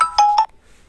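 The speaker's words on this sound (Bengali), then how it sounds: "তো আমি আমার ফোন দিয়ে দিয়েছি।" An incoming call tone on an Android phone: two short electronic beeps in quick succession, fairly loud and close, followed by near silence.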